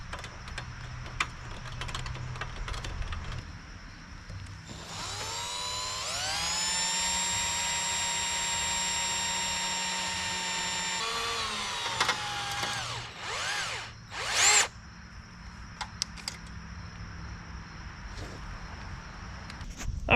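A power drill bores into the metal of a semi-truck while a hitch receiver is fitted, a long steady whine of about six seconds with a brief second burst later, set against quiet clicks and ticking.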